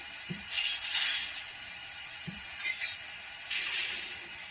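Faint metallic clinks and clunks of a ScaleTrains SD40-2 model locomotive coupler, a few soft clanks spaced apart over a quiet hiss.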